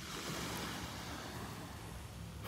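Soft, steady wash of ocean surf on the beach at Delnor-Wiggins, a continuous low roar with light wind, faint and without talk.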